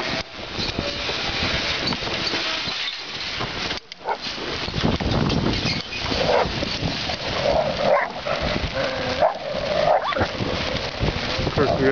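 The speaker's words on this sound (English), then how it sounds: "we got a dog fight right in the center of everything" Several dogs snarl, yelp and bark in a chaotic scuffle amid a noisy crowd, with people talking and shouting over the fight.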